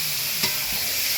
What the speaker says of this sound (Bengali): পেঁয়াজ রসুনও হালকা একটু গন্ধ গেল, এবার মাংস ঢেলে দেবো।